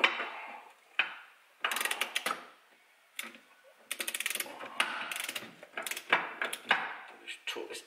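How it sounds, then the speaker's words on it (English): A torque wrench on a Lambretta TS1 scooter build ratchets in several close bursts of rapid clicking, separated by short pauses and brief knocks as bolts are tightened. "Let's torque this down."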